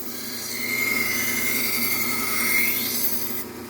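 Knife blades being worked on a sharpener, heard as a steady, close, continuous grinding rasp with a faint high whine running through it, alone without talk.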